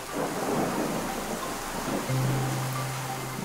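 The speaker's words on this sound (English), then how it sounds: "Every monsoon, for more than 3 to 4 months, heavy rains lash the region of Malnad in Karnataka." Heavy monsoon rain pours steadily in the Malnad region of Karnataka's Western Ghats, a dense loud hiss with a low rumble of thunder rolling beneath it, and no voices.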